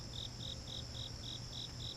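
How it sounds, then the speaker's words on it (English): A cricket chirps outdoors in a quiet natural setting, repeating seven regular, evenly spaced high trills over a soft steady background hum. "I hear a cricket."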